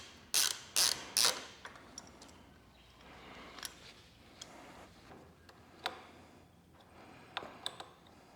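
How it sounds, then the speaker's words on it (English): Hand tools work loose the stabilizer brackets on a Ducati Desert X motorcycle. A few sharp metallic clicks come first, then sparse, faint ticks and light ratcheting follow over a quiet background, with no talking. "Right, let's take these two brackets off."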